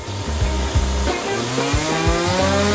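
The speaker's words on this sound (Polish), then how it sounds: "Piła mi pomoże!" A hand saw rasps steadily back and forth through a giant hard candy, loud and close, with gliding tonal squeals from the blade.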